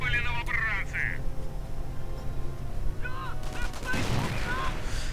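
Shotgun fire in a Company of Heroes real-time strategy battle, with several sharp shots and bursts mixed into dense battlefield noise under a continuous commentator's voice.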